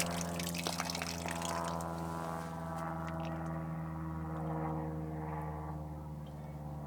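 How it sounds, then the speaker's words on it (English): Water runs steadily from a repaired outdoor faucet, a continuous pouring and splashing rush with a low pump-like hum underneath, fairly close and without speech. "Water's turned on"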